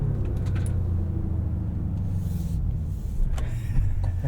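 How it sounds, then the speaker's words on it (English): Deep, uneven exhaust burbles and low rumble come from a 2025 Cadillac Escalade V while it drives, heard from inside the cabin with a few faint pops and clicks and no talking. "See what I mean about the inconsistent burbles?"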